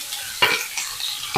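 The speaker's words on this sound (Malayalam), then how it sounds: "അപ്പോൾ നമുക്ക് കടുക് കുറച്ചിടാം." Mustard seeds hit a hot anodized pan and sizzle in short, sharp crackling bursts, with quieter hissing in between. Close, with no voices.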